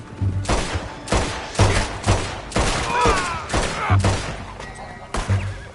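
Repeated gunshots in Red Dead Redemption 2 during a standoff with United States Army soldiers, loud sharp cracks fired in irregular bursts roughly every half second to a second, with some shouting among them.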